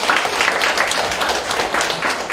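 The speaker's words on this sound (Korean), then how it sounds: "박수 부탁드립니다" A lecture audience applauds to welcome a National Assembly member onto the stage, producing close, dense, continuous clapping that fills the whole short stretch evenly.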